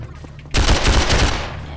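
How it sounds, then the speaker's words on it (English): Rapid automatic gunfire from the Call of Mini Infinity team deathmatch game, a loud close burst of shots arriving suddenly after a quieter start. "How am I getting shot?"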